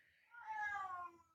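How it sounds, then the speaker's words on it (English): A neighbour's cat lets out a single drawn-out meow inside an apartment, close and fairly clear against a quiet room. "Ignore my neighbor's cat who decides to come in and pretends that my apartment is her"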